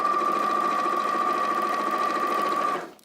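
A sewing machine runs steadily, stitching pink triangle pieces of a quilt block. It gives a loud, close, continuous mechanical whir for nearly three seconds, then stops and winds down.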